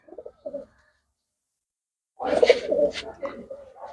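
Soft pigeon coos come in short bursts, a couple early on and a louder, fuller cooing run toward the end, close by with no talk.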